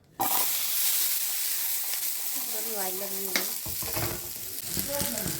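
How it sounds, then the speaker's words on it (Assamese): Beans, onion and capsicum frying in a pan for chilli fish, a hissing sizzle that starts abruptly and keeps going, with stirring scrapes and faint clinks over it. "বিনছ, পিঁয়াজ আৰু কেপচিকাম পিঁয়াজ দি পেলাই ধুনীয়াকৈ প্ৰথমে ভাজি লৈছোঁ"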